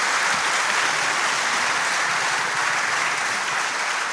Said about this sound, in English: I think a round of applause for our panelists